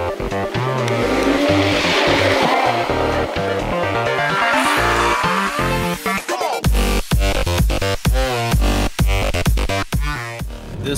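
A Ford GT fitted with an aftermarket exhaust roars loudly up close, with sustained high-rpm engine noise that gives way to a rapid series of sharp revs and throttle blips.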